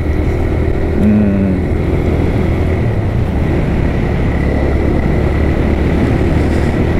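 A motorcycle cruising steadily along the road toward Kathmandu near Sijhi, Nawalparasi, a loud continuous engine drone with wind rumble, no change in pace throughout.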